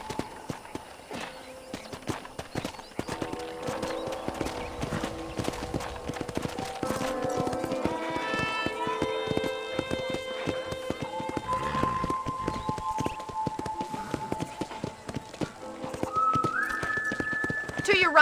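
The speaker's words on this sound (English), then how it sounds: "let's see if you can still ride a horse" Steady, even hoofbeats of a horse being ridden at a walk around a ranch in Red Dead Redemption 1 continue throughout, with music and voices playing over them.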